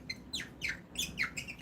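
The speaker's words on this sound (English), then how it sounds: "it's the handle squeaking" The handle of a shotshell reloading press for 12-gauge brass squeaks in a run of short, high, chirp-like squeals, roughly five strokes in quick rhythm, faint and close with no talk over them.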